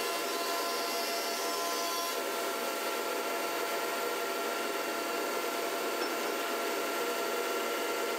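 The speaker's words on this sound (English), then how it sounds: "The next machine, the thicknesser." A wood thicknesser planing beams in a workshop makes a loud, continuous whining roar that holds steady throughout with no pauses.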